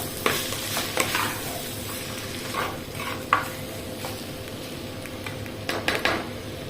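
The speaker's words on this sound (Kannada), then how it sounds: "ಇದನ್ನು ಒಗ್ಗರಣೆಯಲ್ಲಿ ಚೆನ್ನಾಗಿ ಬೆರೆಯೋ ಹಾಗೆ ಚೆನ್ನಾಗಿ ಒಮ್ಮೆ ಮಿಕ್ಸ್ ಮಾಡಿಕೊಳ್ಳ" Ivy gourd being stirred into a hot tempering in a pan, with a steady close sizzle and frying hiss, punctuated by repeated scraping and clinking strokes of the spoon against the pan, no voices.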